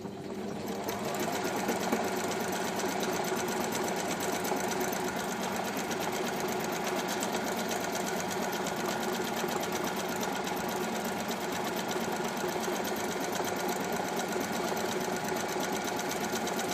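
A Juki computerised sewing machine runs steadily at close range, its needle mechanism producing a continuous fast, even whir with no pauses and no talking.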